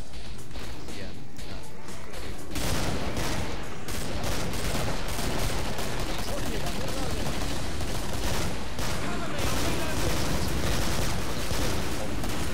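Gunfire from a hand cannon in the video game Killing Floor, a dense, loud barrage of repeated blasts and crashing impacts running nearly the whole stretch, with a quieter lead-in before the shooting erupts.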